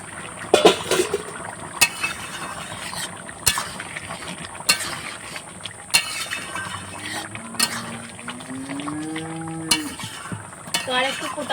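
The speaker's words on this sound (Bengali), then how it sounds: "10 মিনিট পর ঢাকাটা আমি তুলে নিচ্ছি।" A lid lifted off a cooking pot of simmering bamboo shoots in a Bengali home kitchen, giving a few light metallic clanks and scrapes over a soft, bubbling background.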